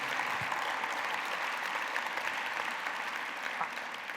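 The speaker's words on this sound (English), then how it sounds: "please join me in a round of applause for John and his team" Sustained audience applause fills a downtown civic event hall, a steady wash of clapping from a large crowd with no voices over it.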